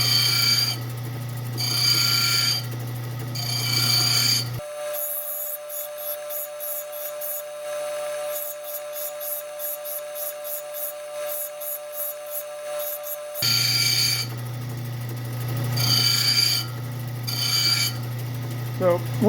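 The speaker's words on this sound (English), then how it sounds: "I'm going to cut off more from this side to move the stone more in that direction" Gemstone preform being cut on a faceting machine: a steady rasping grind with a sustained mechanical whine through the middle stretch, fairly close and continuous.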